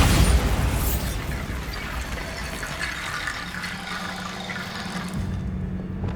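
Bombarda blasting spell in the Hogwarts Legacy video game: a loud, close boom opens, then a broad rumbling, gushing roar that slowly fades over several seconds before cutting off, no talk.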